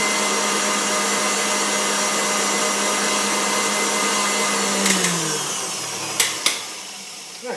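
A stand mixer whisks eggs into pudding batter with a loud, steady motor whir that winds down and stops, followed by a few sharp knocks of the whisk.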